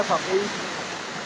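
A river near Kedarnath Temple rushes steadily as a dense, even roar of flowing water, close and constant, with a brief voice at the very start.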